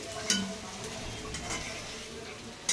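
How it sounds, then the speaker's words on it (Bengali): Taki fish sizzling as it fries in a pan on a gas stove, a steady close crackle with a few sharp clinks of a spatula against the pan. "তো এই যে টাকি মাছ ভেজে নিচ্ছে"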